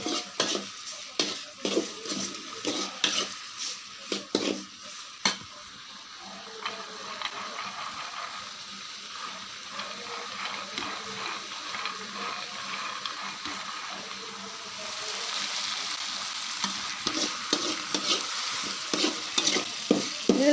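An egg fries in a pan on a gas stove, a constant sizzle running beneath repeated scraping and tapping of a utensil against the pan, busier at the start and end, with no speech.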